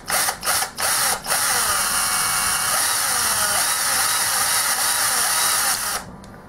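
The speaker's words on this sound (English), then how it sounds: "I'm just using a step drill bit to ease in there" A power drill with a step drill bit bores steadily through metal, a few brief stop-start bursts at first, then one sustained whirring cut before it winds down.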